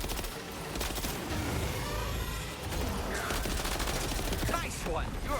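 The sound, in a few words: gunfire from a Metal Gear Solid video game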